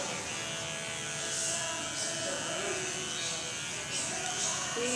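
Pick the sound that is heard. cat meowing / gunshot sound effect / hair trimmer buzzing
hair trimmer buzzing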